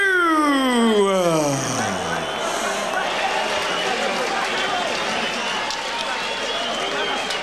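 Ringside crowd at a heavyweight championship boxing bout at the Las Vegas Hilton keeps up a loud, sustained roar of booing and shouting, with a rising whistle-like tone early on, steady throughout.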